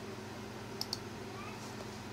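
Two quick mouse clicks in QGIS, sharp and close together near the middle, over a steady faint room hum with no talk.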